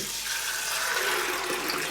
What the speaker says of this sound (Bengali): তারপর ছোলার সাথে আমি দিয়ে দিচ্ছি পানি।